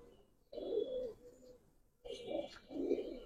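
Giribaz pigeons in a cage give two short bursts of low, throaty cooing, close and fairly quiet, separated by a brief pause.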